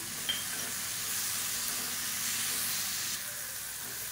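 Tomato, onion and roasted peanuts sauté in a pan with a steady, close sizzling hiss that runs the whole time, with no talking.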